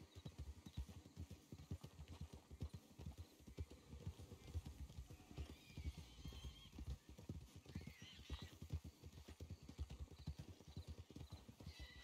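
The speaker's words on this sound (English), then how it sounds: "Let me get my horse to calm down." Horse in the Red Dead Online video game, its hooves clip-clopping steadily and close throughout while it neighs and whinnies, with faint game ambience behind.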